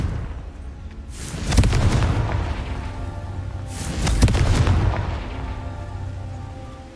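Two deep booming blasts from the Confringo blasting curse in the video game Hogwarts Legacy, each a sharp hit followed by a rumbling tail, spaced a few seconds apart over low background sound.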